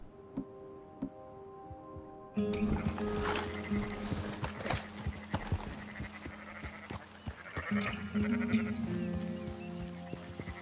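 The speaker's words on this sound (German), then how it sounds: "Wir klauen eine Schafherde." Sheep bleat in Red Dead Redemption 2 as a flock is stolen, with several overlapping bleats and soft hoof clatter against a steady low background hum, fairly close and loud.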